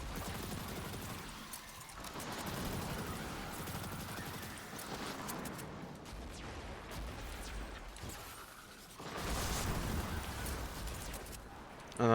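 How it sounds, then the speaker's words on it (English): Steady bursts of Akilos SMG fire in a shooter game rattle on through most of the stretch at moderate level, with brief pauses and a louder swell near the end. "I'm gonna be doing it with my Akilos SMG"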